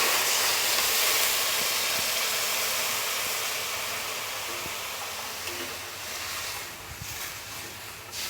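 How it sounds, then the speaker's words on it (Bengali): Water pours steadily into a pan of fish curry with new potatoes to make the gravy, a broad continuous rushing hiss that slowly eases off, close by and with no talk. "এখন আমি দিয়ে দিচ্ছি ঝোলের জন্য জল"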